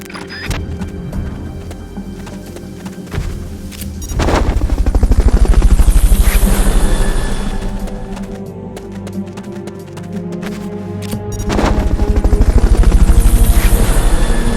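A loud helicopter rotor thumps steadily in the video game Metal Gear Solid: Peace Walker, swelling twice as it passes close, with a game-like engine drone and scattered sharp bursts.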